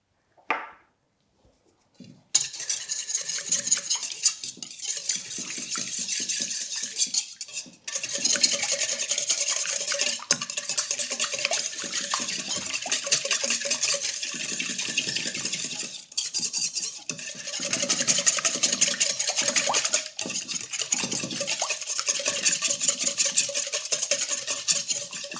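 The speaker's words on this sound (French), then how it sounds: "on va fouetter pour que toute la levure en fait se dissout dans le liquide" Yeast being whisked by hand into eggs and liquid for an aromatic poolish, a steady, close scraping and rubbing rhythm of whisk against bowl that runs continuously after a brief quiet start, with no talking.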